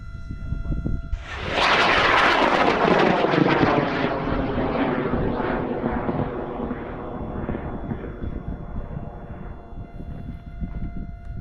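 A 15-foot high power rocket launches on 9 motors at a rocket field in Argonia, Kansas: a sudden loud roaring blast that rumbles and slowly fades as it climbs away.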